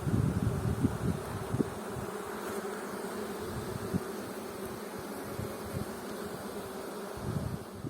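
A large honeybee swarm drones in a continuous, dense buzz, steady and fairly faint, with no voices or other sounds over it.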